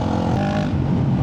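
A tuned Honda CRF450RL motorcycle engine drones steadily in sixth gear, loud and close, a continuous roar with no break and no voices.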